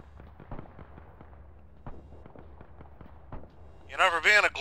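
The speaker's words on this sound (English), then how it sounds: "Ammo cook-offs from the looks of it" Ammunition cooking off inside destroyed tanks in ARMA 3, heard as a string of faint, distant popping cracks at irregular intervals, with voices talking over the end.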